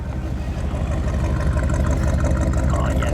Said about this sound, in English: Let's get a little exhaust note.